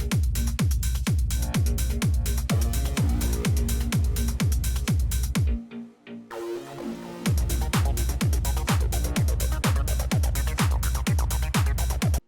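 Techno kick drum pattern pounds in a steady four-on-the-floor pulse, loud and punchy over a busy track, then drops out briefly into a sparse fill before the driving kicks resume.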